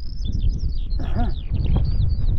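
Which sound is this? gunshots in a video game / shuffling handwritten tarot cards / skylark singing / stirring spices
skylark singing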